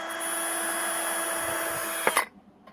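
A power drill runs with a steady, high-pitched whine for about two seconds, then sputters briefly and cuts off to near silence.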